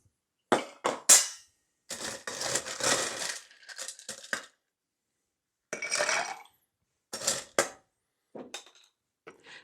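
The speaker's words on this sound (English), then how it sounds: "make sure you give it a really good shake in there" Vodka and caramel cocktail shaken hard over ice in a shaker for a caramel apple mule, giving bursts of rattling, clinking ice separated by short pauses, close and fairly loud with no talking.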